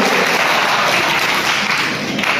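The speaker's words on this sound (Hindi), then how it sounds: "एक मरतबा साजिद सरदार के लिए जोरदार तालियां बजा दें।" Loud, dense applause from a large conference crowd in a cultural hall in Malegaon, India, steady and continuous throughout.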